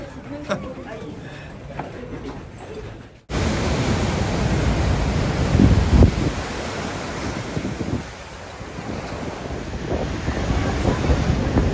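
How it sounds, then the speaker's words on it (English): Waves crash against the old stone ramparts of Saint-Malo at high tide, a loud, steady roar of surf with gusting wind buffeting the microphone, after a quieter opening of faint voices. "we're watching the waves crash"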